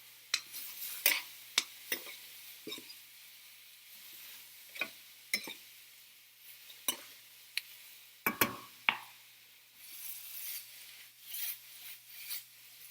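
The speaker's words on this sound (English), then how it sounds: "once you add that garlic, you're going to cook that until it's aromatic, which means you can smell it, okay? So that pan's hot." Garlic in a hot pan, heard as a quiet sizzle punctuated by repeated sharp scraping and stirring clicks, close and irregular, with no talking.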